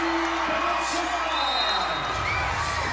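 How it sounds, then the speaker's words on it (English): Crowd cheering rises at the Cuneta Astrodome during a Caloocan versus Pasay MPBL basketball game, a broad roar of voices with whoops, steady and loud throughout, with a commentator talking over it. "That gets the crowd here at the Cuneta Astrodome up on their feet"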